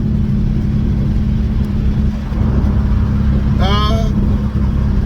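An SN95 Ford Mustang cruises at 88 mph, filling the cabin with a loud, steady roar of engine and road noise, and a brief rising whoop cuts in near the end.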